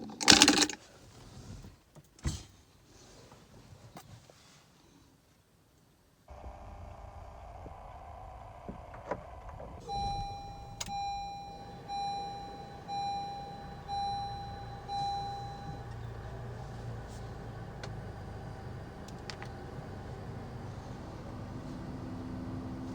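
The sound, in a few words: 2018 Honda Civic 1.5 TC-P engine starting with the door closed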